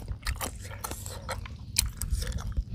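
Someone bites and chews chili peppers eaten with squid and a seafood dipping sauce, giving close, crisp crunching bites and wet chewing that repeat steadily with no talk.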